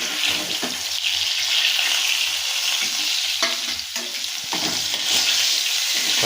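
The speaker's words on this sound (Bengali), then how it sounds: "ভাজা হয়ে এসছে পুরোপুরিভাবে" Fish heads, fried through in a home Bengali kitchen, sizzle loudly in hot oil with a continuous crackling hiss, broken by occasional scraping and clatter as they are handled in the pan.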